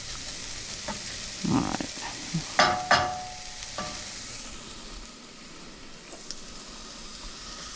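Cumin seeds toasting in a dry pan give a soft, steady sizzle and crackle, with a few louder scraping bursts from stirring midway and a brief voice near the start.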